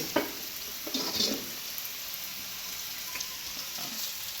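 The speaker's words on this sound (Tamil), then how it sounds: "நல்லா வதங்கிட்டு இருக்கட்டும்" Bitter gourd sautéing in a pan, a soft constant sizzle with a few faint stirring scrapes near the start.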